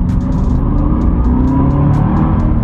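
A 556-horsepower manual Cadillac CTS-V accelerates hard, its engine roaring loud and steady from inside the cabin in a continuous low rumble without a break.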